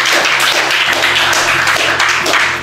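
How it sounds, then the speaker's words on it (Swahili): Applause for a participant at a youth science challenge: a crowd claps loudly and continuously, with the sound tapering slightly at the end. "Okay, makofi kwake."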